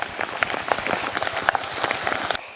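Soaked dal batter for white laddu is beaten by hand in a bowl, giving a steady, dense patter of quick wet slaps and taps that runs without a break.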